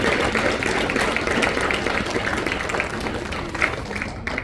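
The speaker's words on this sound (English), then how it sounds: "So please give a rounding applause to Kelly Lobianco" An audience applauds at a county business gathering, producing a dense, steady wash of many hands clapping that holds for several seconds.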